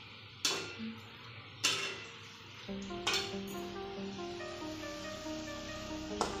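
Potato bhaji frying in oil: a steady, faint sizzle runs throughout, with three or four sharp clacks and a softer tonal hum, and no talking.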